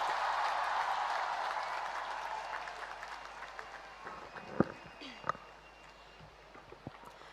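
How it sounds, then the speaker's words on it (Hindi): At an award ceremony honouring PV Sindhu, a large audience applauds in a broad, roomy wash that gradually fades, with a few sharper knocks and faint voices toward the end. "जोरदार तालियों से स्वागत।"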